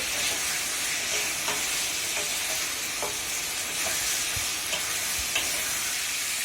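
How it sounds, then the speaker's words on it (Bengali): A fish-head curry with pointed gourd and potato is sautéed in a pan, producing a loud, continuous sizzle close by with faint stirring ticks throughout and no talking. "এটাকে এখন 2-3 মিনিট আরো কষাতে হবে।"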